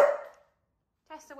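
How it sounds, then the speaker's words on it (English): A dog outdoors in a valley lets out one sharp, close bark that fades quickly; after a brief silence, a person starts speaking. "Chester, what are you barking at?"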